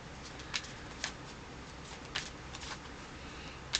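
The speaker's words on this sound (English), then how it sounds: "Just shuffling." Cards being shuffled, with several quick riffling bursts at irregular intervals over a quiet background.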